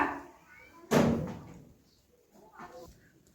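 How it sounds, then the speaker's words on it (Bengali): A house door is pushed and then opened, giving one sudden loud thud that fades out, with quiet voices talking before and after it. "এখন দরজা ধাক্কাচ্ছে"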